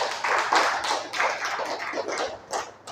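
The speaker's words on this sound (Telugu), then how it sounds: "చప్పట్లు కొట్టండి." An audience claps along during a church sermon, giving a steady burst of dense, fairly close applause that lasts about three seconds, with no voice over it.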